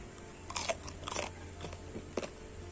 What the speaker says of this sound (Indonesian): bagian luarnya tuh renyah, dalamnya itu lembut